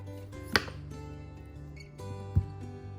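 A knife cuts blemishes off a baked potato in two sharp, close taps on a cutting board, one early and one near the end, over a steady low background hum.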